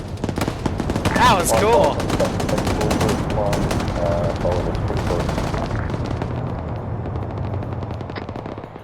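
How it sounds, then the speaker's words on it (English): Loud, sustained bursts of automatic gunfire and explosions in a Star Wars Rebels and Afghani vs Iran video game, with voices talking over the shooting throughout. "Taking fire from the northeast side of town."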